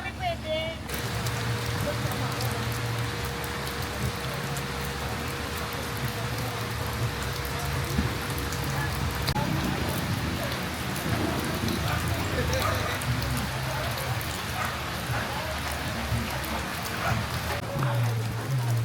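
Rain falls steadily at a campsite during a rainy motorcycle camping trip in Quezon, a constant close hiss of drops on surfaces beneath people talking, with a faint tonal hum in the first half.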